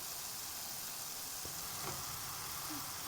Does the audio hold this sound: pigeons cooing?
no